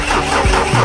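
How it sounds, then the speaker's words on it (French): A car engine running with an odd noise drones steadily and loudly up close, with low rumbling and uneven mechanical whirring throughout. "C'est normal aussi le bruit que le moteur fait."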